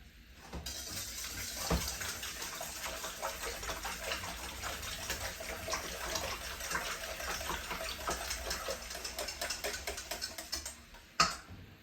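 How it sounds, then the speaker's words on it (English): Eggs and water being whisked together in a bowl for scrambled eggs, a steady run of quick, light clinking and sloshing strokes that carries on for about ten seconds, close by, then stops with a sharp tap. "And then whisk the eggs and water together."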